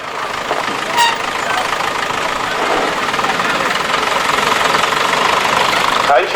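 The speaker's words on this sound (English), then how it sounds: "Now this tractor looks like a road running tractor." A Ferguson 35 tractor engine runs at a vintage vehicle gathering, a steady knocking diesel chug close by, while someone talks over it.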